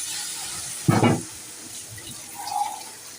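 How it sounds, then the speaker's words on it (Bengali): Water is poured into fried lentils (dal) in a pan for cooking, a short sizzling, splashing gush that rises abruptly, fades within half a second, then gives way to a soft hiss. "এবার জল দিয়ে দিন"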